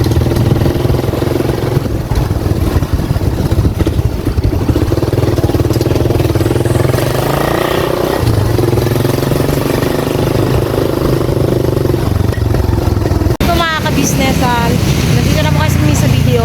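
A motorcycle engine runs close by, a loud, steady low rumble persisting throughout with voices talking over it.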